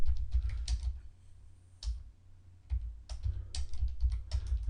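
Fingers type on a computer keyboard in quick bursts of close, clattering keystrokes, with a short pause in the middle before the rapid tapping resumes.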